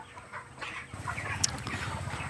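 Chickens cluck on a poultry farm during hot weather, a soft, steady flock chatter with short, closely spaced calls and one brief sharper squawk partway through.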